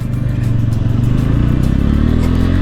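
A 2024 Bajaj Pulsar N160 motorcycle pulls away in first gear, its single engine loud and close with a steady throbbing exhaust note that rises gently as it accelerates.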